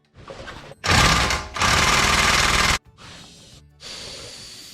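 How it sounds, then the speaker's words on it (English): Impact wrench breaking loose the front axle nut on an Audi A4 B7, several loud rattling bursts of hammering and whirring, close up, separated by short pauses. "Now I'll go ahead and break the axle nut loose. I'm gonna try Godzilla next."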